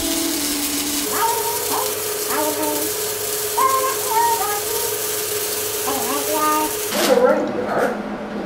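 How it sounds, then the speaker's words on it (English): Welding a bumper guard, a steady crackling arc hiss running almost the whole time beneath a voice talking over it, with a louder clattering burst near the end. "I'm going deep with the weld, so we'll be fine."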